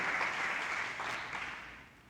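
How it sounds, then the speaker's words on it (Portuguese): Church congregation applauding, a sustained wash of many hands clapping that fades slowly over two seconds, fairly near and with no talk over it. "Dá um aplauso a Jesus aí."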